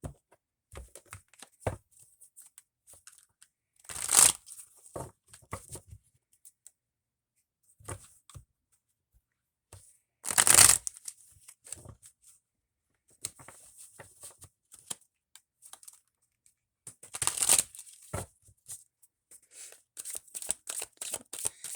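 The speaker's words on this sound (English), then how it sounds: "Let's pull some of these beautiful cards here for the Divine Feminine." A deck of tarot cards handled and shuffled, with soft scattered taps and slides broken by three louder, brief shuffling bursts spaced several seconds apart, quiet and close with no voices.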